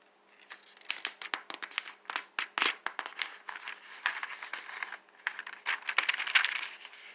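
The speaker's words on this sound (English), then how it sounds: "I'm going to do the crumple test. You can hear that." Crisp crinkling and crumpling of thin Cambridge Bible paper, a steady run of small rustling crackles up close, fairly quiet, with no talking.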